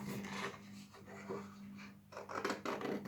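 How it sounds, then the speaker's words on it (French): A fir tree shape is being cut out by hand at close range: soft, irregular rubbing and rasping strokes with brief pauses over a low steady hum. "je vais venir découper mon sapin"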